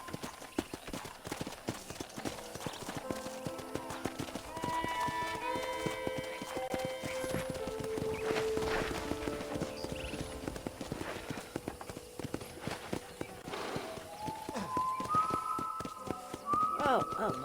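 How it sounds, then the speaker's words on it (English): Rhythmic clip-clop of horse hooves at a steady gallop in Red Dead Redemption, fairly close, with music and game sounds layered around it. "let's see if you can still ride a horse"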